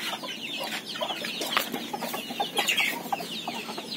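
Chickens cluck and chatter repeatedly in short irregular bursts as they are fed sardines on a rural farm, moderately close, with no talk over them.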